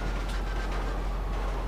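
A train rolls past in the video game GTA 5 Online, a brief, dense rumbling rush that stays fairly loud and unbroken, with no voices.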